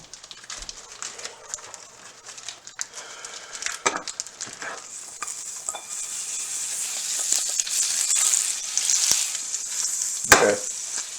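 Butter sizzles in a hot frying pan for meatballs, a bright crackling hiss that grows steadily louder, with occasional clatters of utensils.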